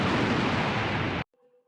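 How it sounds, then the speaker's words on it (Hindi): Loud sustained explosion boom lasting about a second in a Gujarati comedy scene, cut off abruptly into near silence with a faint tonal hum after. "धमाका।"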